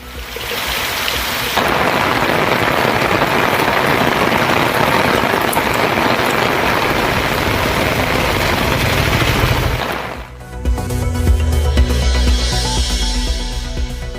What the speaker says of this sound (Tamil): சென்னை மற்றும் புறநகர் பகுதிகளிலும் பல்வேறு இடங்களில் விடிய விடிய பெய்த மழை